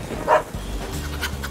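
A cartoon puppy caught in the rain lets out a single short, whining yelp near the start. Soft, low background tones and patter follow.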